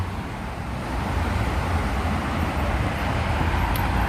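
Cars passing on a New York City street on an evening walk, a steady roar of traffic that swells slightly and stays close and continuous throughout.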